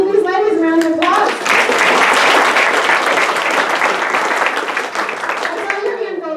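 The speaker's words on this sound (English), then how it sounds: "let's give these ladies a round of applause" Audience at a business expo breaking into loud, dense applause that swells quickly and then slowly thins, with a few voices and a speaking person heard around the edges of the clapping.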